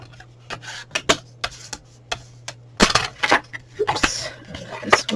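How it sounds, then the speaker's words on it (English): A tool scores fold lines into card stock for a purse-shaped gift card holder, giving sharp scraping strokes and taps in an uneven rhythm, louder and denser in the second half, close up. "So we're just going to do all our wee score lines up."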